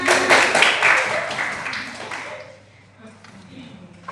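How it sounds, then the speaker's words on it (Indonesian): A classroom claps for a student named Ina after a correct answer during a microteaching lesson, a few seconds of loose, moderately loud clapping that fades out as a voice and faint room noise take over. "Tepuk tangan untuk Ina"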